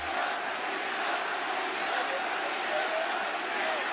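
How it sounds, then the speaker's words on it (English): Wrestling arena crowd during a John Cena match, a loud, sustained roar of many voices with scattered shouts that stays dense and steady throughout. "as the crowd starts to get louder and louder"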